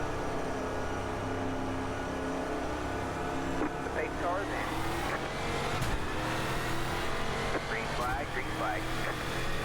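Nascar Eurocar race cars at Rockingham in the iRacing sim roar back up to speed on a restart, a steady engine drone with rising gear-change whines, heard under voices talking.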